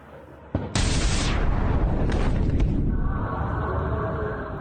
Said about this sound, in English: Explosions were heard in Yemen's capital Sana'a.